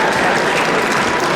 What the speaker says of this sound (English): And warm round of applause for Mr. Yoga Mahartoyasa.